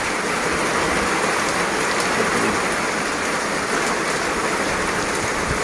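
Heavy monsoon rain pours down in Sambalpur, a dense, unbroken hiss of rainfall that holds steady and loud from start to finish.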